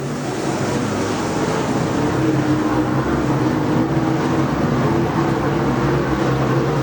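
Super and Steelhead race cars lap the Boyds Speedway dirt track during a feature, producing a loud, continuous engine roar that drones steadily at a distance, with no voices.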